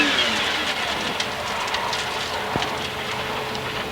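A McLaren F1 road car sprinting from standstill to 100 and braking back to a stop, heard as a steady, loud engine roar with broad noisy wash and a brief sharp transient midway, no talk.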